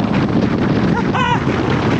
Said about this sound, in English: too damn windy to even stay straight